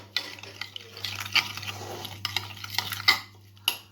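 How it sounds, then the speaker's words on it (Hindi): A spoon scrapes and clinks in a bowl as spices are mixed with a tablespoon of oil for tikka marinade, with soft repeated stirring sounds and occasional sharper taps over a low steady hum. "इन सब चीज़ों को हमने अच्छी तरह से मिक्स कर लेना है।"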